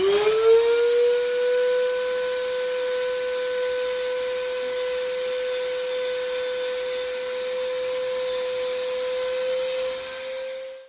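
A Dremel rotary tool whines at a steady high pitch for about ten seconds, continuously sanding a scrap-metal folding knife blade, then winds down at the end.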